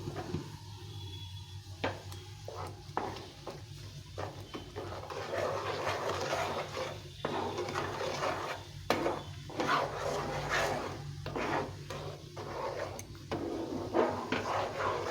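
Mango pulp with sugar being boiled and stirred in a pan, with irregular close knocks and scrapes of a utensil against the pan over a soft bubbling background, no talking.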